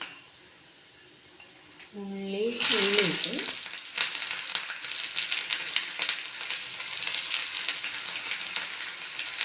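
Mustard seeds and fenugreek dropped into hot oil burst into a sudden loud crackling sizzle after a quiet moment and a brief voice, then keep spitting and popping close by.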